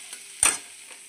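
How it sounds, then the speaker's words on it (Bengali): Onions fry in oil in a pan while being cooked for chicken potol curry, with one brief stirring scrape over a faint, quiet sizzle. "দেখো বন্ধুরা আমার পেঁয়াজটা ভাজা হয়ে গেছে"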